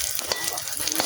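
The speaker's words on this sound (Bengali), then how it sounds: "এদিকে চুলায় আমি ডিম ভাজতে দিয়ে দিয়েছি।" Eggs frying on a stovetop crackle and sizzle close by in a busy, uneven hiss with small popping spikes, and no one speaks.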